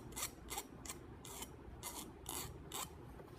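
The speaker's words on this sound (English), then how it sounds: "So take a file, and we're going to file those little guys down" A hand file rasps along the edges of a homemade key chain in about seven quick, evenly spaced strokes, close and quiet with no talking.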